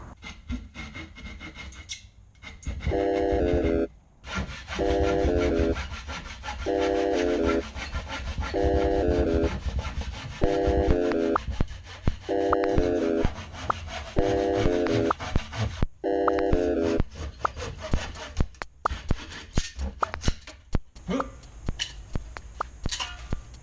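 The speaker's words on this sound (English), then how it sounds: "We've got a couple saws that we're going to try and use to cut this wood." Hand saws cut through wood clamped in a vise, giving repeated rasping strokes in regular bursts, several steady cutting passes with brief pauses between them, close and fairly loud, with some handling noise near the end.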